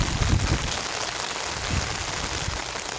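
Rain pouring steadily outdoors, a dense, loud hiss of drops on surfaces throughout, with no voices.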